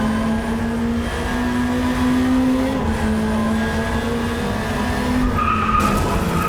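A race car engine in the Drive Club racing game holds a loud, steady revving drone with tire squeal layered on top, running continuously with no one talking.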